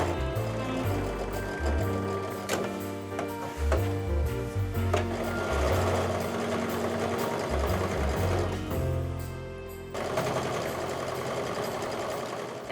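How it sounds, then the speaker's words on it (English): A sewing machine runs steadily, stitching a second line along a double seam on a canvas apron, its motor whirring loud and continuous with brief pauses and a short stop near the end. "I'm going to move my sewing needle back into that middle position and do a second stitch around"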